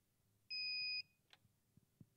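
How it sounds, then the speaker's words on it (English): A gate operator controller, a Doorking, HySecurity or Maximum Controls unit, gives a single steady electronic beep of about half a second while it auto-detects its UL safety devices, followed by a few faint clicks in a quiet room. "It's beeping."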